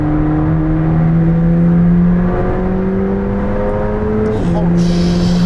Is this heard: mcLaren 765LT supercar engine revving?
yes